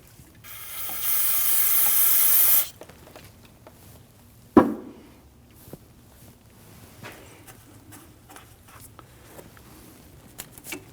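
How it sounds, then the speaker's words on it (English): A loud, steady aerosol cleaner spray hisses for about two seconds on a Ford Interceptor Utility rear brake caliper, followed by a sharp clunk and scattered light mechanical clicks. "I'm going to give this a quick spray"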